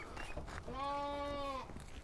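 A lamb bleats once, a clear, sustained, wavering cry lasting just under a second, close by against a quiet farmyard background; the lamb is one of several young male and female lambs being sold.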